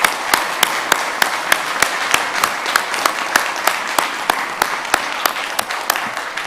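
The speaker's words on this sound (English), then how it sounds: "Let's give him a round of applause." A summit audience gives steady applause after a talk, with a single sharp clap repeating at a regular beat over the continuous clapping.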